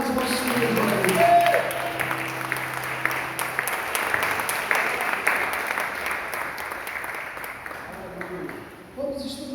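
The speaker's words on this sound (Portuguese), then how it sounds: "renda as suas palmas ao Senhor" Pentecostal church congregation clapping during a family festival service, sustained crowd applause under a voice speaking over it, with a musical tone lingering early on and the clapping thinning out toward the end.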